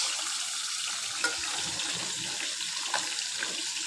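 Chopped green chillies fry with mixed vegetables, giving a dense, even hiss of sizzling oil with a couple of faint stirring clicks, steady and close.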